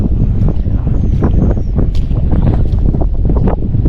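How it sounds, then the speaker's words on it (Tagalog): Strong, blustery wind buffeting the microphone in a continuous low roar, with gusts swelling and easing over open water while fishing at sea. "Medyo mahangin na kasi"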